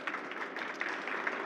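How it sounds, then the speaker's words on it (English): An audience applauds at a hydrogen and fuel cell conference talk, a faint, dense patter of many hands clapping at a distance, steady throughout with no speech. "Please give Wayne a round of applause."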